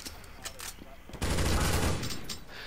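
An auto shotgun firing in Counter-Strike, a dense loud burst of rapid blasts lasting under a second after a few scattered softer shots, with game noise around it.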